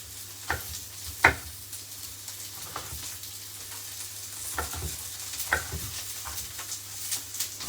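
Chopped pepper sizzles and fries in a pan for a stewed jerk-style chicken dish, a steady crackle with a few sharper stirring scrapes and clinks scattered throughout.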